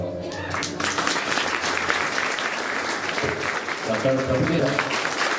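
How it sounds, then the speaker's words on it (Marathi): Loud, sustained applause from a crowd at a village felicitation ceremony honouring a descendant of Kanhoji Angre, with music and voices running underneath the steady clapping. "जोरदार टाळ्या"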